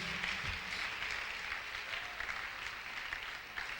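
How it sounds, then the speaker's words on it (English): A church congregation at a dedication service applauds in a steady, even wash of clapping, fairly soft and distant, lasting a few seconds. "Let's clap for him."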